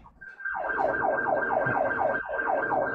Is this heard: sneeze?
no